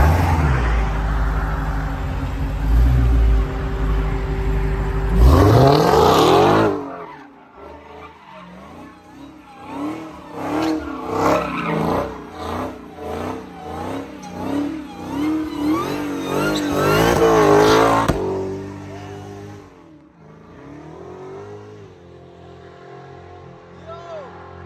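Dodge Hellcat and Infiniti Q50 Red Sport launching side by side in a street race, loud engine roar and tire squeal under shouting voices, rising from about five seconds and cutting off near eighteen seconds.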